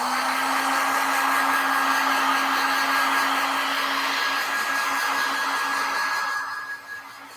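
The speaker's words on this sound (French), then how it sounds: "Je vais un petit peu sécher la peinture." A hair dryer blows steadily to dry paint on a tissue box, a loud continuous whirring hiss with a high whine, held close for several seconds before it tapers off at the end.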